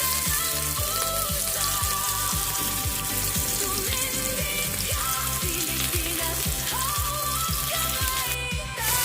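Onion sautés in a hot pan with garlic, making a loud, continuous sizzle and crackle, while steady thumping beats and melodic tones play underneath with no voices.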